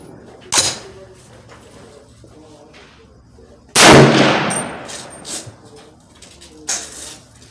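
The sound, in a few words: 308 rifle gunshot at 100 yards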